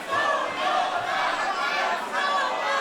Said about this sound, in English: You can hear half of them cheering for Aytac, half of them cheering for Yota Tsuji.